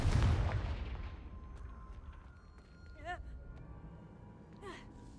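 In the Hogwarts Legacy video game, the Confringo fire spell opens with a heavy blast that fades into a rumbling tail. Two shorter swooping magical effects follow later over faint background ambience.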